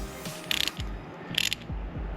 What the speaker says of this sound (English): I've got a screwdriver here that will be able to line up straight with those screws.